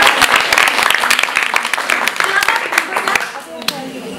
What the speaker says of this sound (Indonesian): tepuk tangan untuk Kak Ruth.